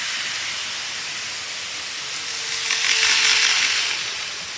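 Green series 117 model train pulling into a model railway station, a steady hissing, rushing run with a faint mechanical whine that swells a little louder midway and then eases, with no talking.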